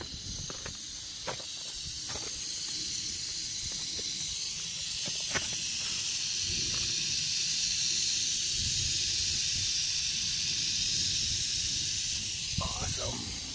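A rattlesnake rattles in the foothills of Arizona's Superstition Mountains, a steady, loud, continuous buzzing hiss that persists throughout, with a few brief knocks and footstep-like sounds scattered over it.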